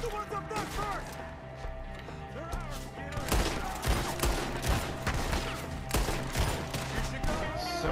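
Rapid gunfire crackles through a shootout in the Red Dead Redemption 2 video game, with scattered shots at first building into dense, overlapping volleys, while voices shout over the fight.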